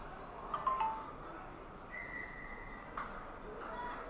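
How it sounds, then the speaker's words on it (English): A rugby referee blows a whistle for a penalty, a faint distant steady blast heard over crowd and field noise, with a couple of brief chirps. "The ref's blowing his whistle for a penalty"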